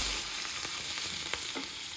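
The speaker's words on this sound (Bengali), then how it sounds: "পেঁয়াজ আর রসুন দিয়ে দিচ্ছি।" Onion and garlic hit hot oil for a khesari dal, giving a steady close sizzle with a bright hiss and a few soft stirring scrapes, no voices.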